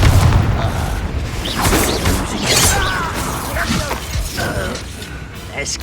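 A Confringo blasting spell going off in the Hogwarts Legacy video game, with booming impacts, crashing debris and clanking mechanical noises over a busy, loud combat mix, some voices underneath.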